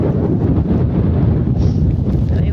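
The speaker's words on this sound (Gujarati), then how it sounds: "પવન બહુ જ છે અત્યારે, જુઓ તમે, ફૂલ પવન હોય છે" Strong wind sweeps across a farm field while the field edges are being cleared before the monsoon, roaring steadily and loudly into the microphone as continuous buffeting noise with no talking.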